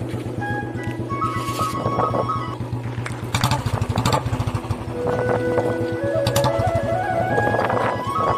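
A Royal Enfield Bullet motorcycle rides along a road, its steady engine thump running loud and close throughout with rising and falling revs and some clatter layered on top.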